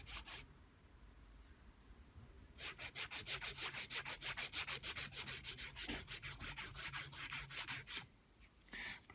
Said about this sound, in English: got a little strip of carborundum paper or carbide paper